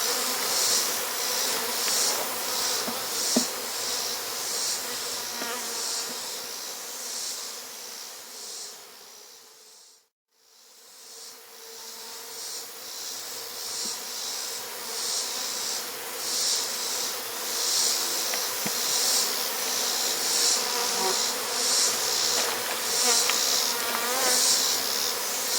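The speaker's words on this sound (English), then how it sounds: "A lot of bees in there." Honey bees swarm inside a working hive, a dense, steady buzz close by that swells and thins in waves, with a brief lull midway before the droning returns at full strength.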